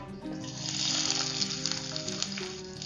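Onions frying in hot oil with cinnamon, cloves and dried red chillies for Assamese dal chicken, a steady close sizzle with a faint hum and light stirring.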